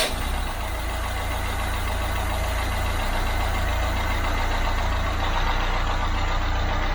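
Engine fitted with a new Lucas starter motor catches almost at once, then runs as a loud, steady, close rumble for several seconds with no talking.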